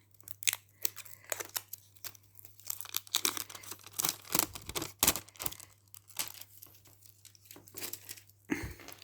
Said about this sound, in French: On va se servir du ciseau, qui coupe super bien d'ailleurs.